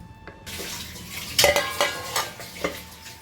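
A spoon scrapes and knocks against a bowl in a few uneven strokes, mixing a wet semolina and water dosa batter with soft sloshing sounds.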